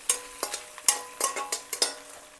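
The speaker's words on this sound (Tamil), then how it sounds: "இடிச்ச பச்சை மிளகாய் நல்லா மிக்ஸ் பண்ணணும், நல்லா ஃப்ரை பண்ணணும்." Crushed green chilies frying and being stirred in a pan for a moringa soup, with a light sizzle broken by about eight sharp scraping stirs at an uneven pace, close and fairly quiet.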